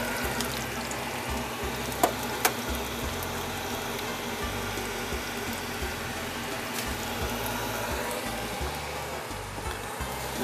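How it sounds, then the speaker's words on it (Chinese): Egg pancake wrapper frying on a hot griddle in a retro shop, a steady close crackling sizzle with a couple of sharp clicks early on and low rumbling background noise. "那在煎蛋饼皮的过程"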